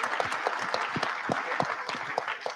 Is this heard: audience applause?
yes